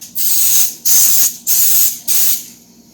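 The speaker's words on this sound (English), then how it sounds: "I'm going to spray this pan" Four short bursts of cooking spray onto a pan, each about half a second of bright hissing with brief pauses between, close and loud.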